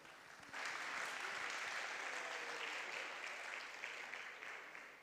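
Audience applause at a WordPress-style tech talk on expanding core blocks with frontend interactivity, a steady wash of many hands clapping that swells in after a brief quiet start and holds fairly evenly, moderately distant, before easing slightly.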